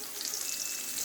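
Water for sewaiyan comes to a boil in a cooking pot, giving a steady, soft, bubbling hiss that holds evenly without any talk.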